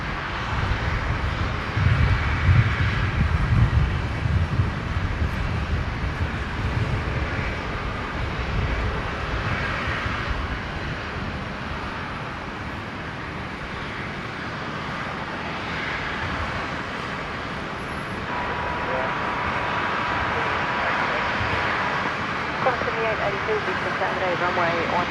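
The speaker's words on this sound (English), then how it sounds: "Next arrival, the Rex 73 returning from Sydney." Rex airliner arriving from Sydney at Brisbane International Airport, a steady broad jet-engine roar that stays loud through the whole stretch, with no clear peak and outdoor wind and background noise mixed in.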